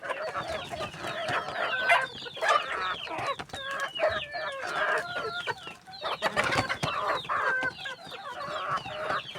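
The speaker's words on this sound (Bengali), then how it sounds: "দেখাবো আমার খাবার খেয়ে মুরগি কেমন স্বাচ্ছন্দ্য বোধ করে খায়" Backyard hens cluck busily while pecking at a homemade mixed feed, many overlapping clucks and short calls rising and falling close by, with no one speaking.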